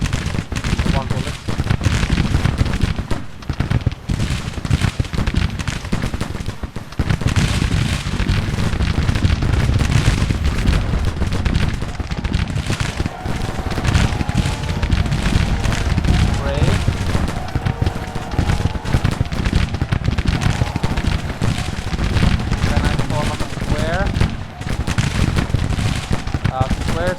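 Nearly continuous massed gunfire volleys and booming shots from the video game Union, with musket volleys and artillery-like blasts dense and loud throughout, a busy battle din with no clear pauses.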